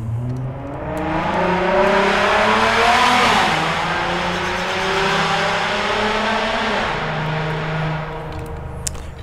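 A Ford Mustang engine revving outside, a loud sustained roar that rises and falls in pitch over several seconds before settling into a steady drone, with no talking.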